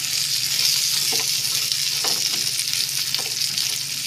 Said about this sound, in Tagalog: Lagay ko na guys yung aking pinirito daing na isda, pampalasa.